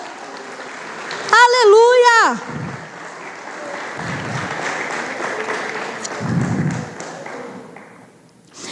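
Church congregation applauding during a service, a broad steady clapping under a man's sung exclamation and a preacher talking, moderately loud and sustained.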